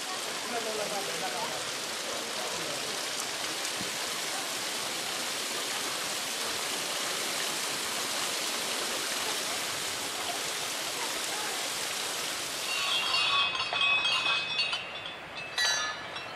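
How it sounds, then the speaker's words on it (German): Water gushes from 108 gilded spouts fed by the sacred Vishnu spring at a Nepalese temple, a dense, steady splashing hiss heard close and unbroken, with a few faint metallic clinks and a slight surge near the end. "Und so sprudelt das rettende Nass auch aus 108 vergoldeten Speiern aus der heiligen"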